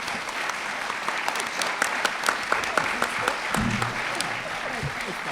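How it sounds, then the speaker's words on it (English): An audience at a policy forum in Nevada applauds its panel of speakers, with a steady patter of many hands and sharper individual claps near the microphone, plus brief murmurs of voices toward the end. "Give them a round of applause, folks."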